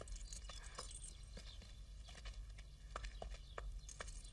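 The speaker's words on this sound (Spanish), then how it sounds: "Este sí es un caballo, padre." Hooves clip-clop in an uneven walking rhythm, fairly faint against a steady low rumble, with a few sharper knocks scattered throughout.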